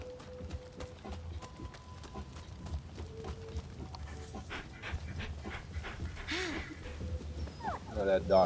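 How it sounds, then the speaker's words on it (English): Dog panting with an occasional whimper in the video game Rise of the Ronin, heard faintly under a busy game soundscape of footsteps and effects, with a person talking over it. "Look at that doggy."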